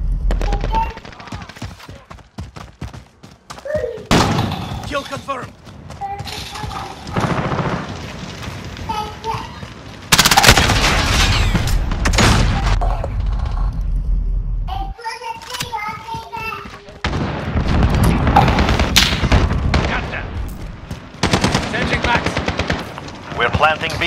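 Rapid automatic gunfire and bursts of shots in a Call of Duty: Modern Warfare demolition match, loud and nearly continuous with short pauses, and a few explosive thumps, while young players and game voices talk over the shooting.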